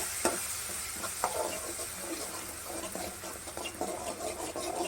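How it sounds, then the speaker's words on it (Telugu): Green chilli and ginger paste fries in a pan while being stirred: a soft, continuous sizzle with light scraping taps, quiet and close, and no talking. "ఇది కొంచెం పచ్చివాసన పోయే విధంగా వేయించేసుకోవాలి"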